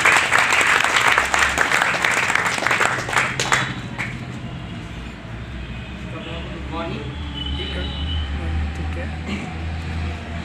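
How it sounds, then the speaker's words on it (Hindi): Loud audience applause for Faiz at a public library foundation day event in Jamia Nagar, New Delhi, a burst of clapping for a few seconds that fades into a low murmur with a steady low rumble beneath. "फैज़ भाई के लिए जोरदार तालियां"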